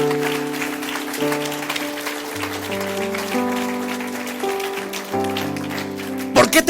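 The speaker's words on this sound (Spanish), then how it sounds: "Dale un aplauso bien fuerte al Señor" A church congregation claps loudly and steadily beneath sustained keyboard chords, the applause a dense, even patter blended into the music, swelling briefly at the end.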